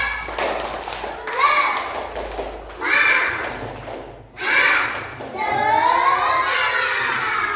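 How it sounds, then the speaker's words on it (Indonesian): A class of children does a rhythmic spirit clap in a patterned sequence of claps, broken by bursts of loud children's voices chanting along between the clapping. "Coba tepuk semangat dulu. Tepuk semangat."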